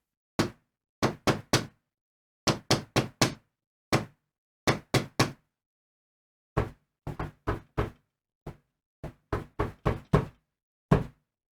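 An electronic drum kick pad resting on foam is struck in quick groups of two to four dull, knocking thumps. The hits are dry and close, separated by short silences, with no voices.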